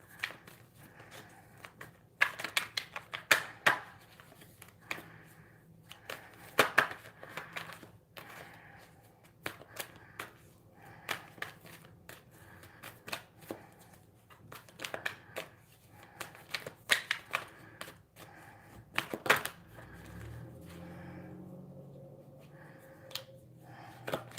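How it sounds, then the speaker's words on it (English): Tarot cards are shuffled close up during a live reading: repeated crisp riffles and snaps in irregular bursts over a quiet background, with no talking. "And I know you heard me shuffling."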